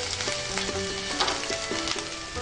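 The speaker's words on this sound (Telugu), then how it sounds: "ఇక్కడ వచ్చేసి ఆనియన్స్ ఫ్రై అవుతున్నాయి, ఇక్కడ వచ్చేసి పనీర్ ఫ్రై అవుతుంది తవా మీద" Onions and paneer fry on a hot tawa for paneer tawa masala, giving a steady, close sizzle with occasional stirring scrapes and no voices.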